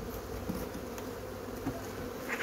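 A honeybee colony too large for its hive hums in a steady, dense buzz right at the boxes, close and continuous with no voices.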